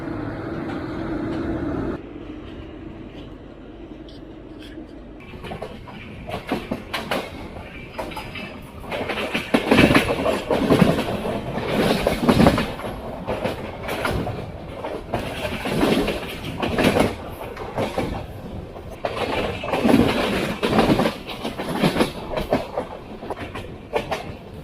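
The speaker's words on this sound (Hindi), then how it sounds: "सामने सारी Vidarbha express brand new LHB rake के साथ।" Vidarbha Express with brand-new LHB coaches passing alongside on the adjacent track in India, a loud rushing roll with rhythmic clickety-clack of wheels over rail joints building and holding close by.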